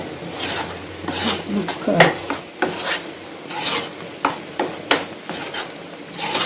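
Indian borage leaf thokku being sautéed and stirred in a pan, loud rhythmic rasping scrapes of a spatula repeating every half second or so, close up, with faint talk in places.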